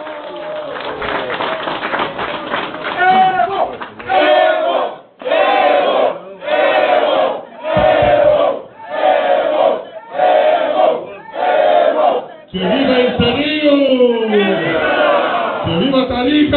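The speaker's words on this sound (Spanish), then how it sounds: "Le damos fuerte un aplauso a nuestro hermano Evo Morales," A large crowd at an outdoor political rally for Evo Morales in Entre Ríos, Tarija, Bolivia, roars and cheers in loud rhythmic surges, about one per second, with a steady crowd din between them.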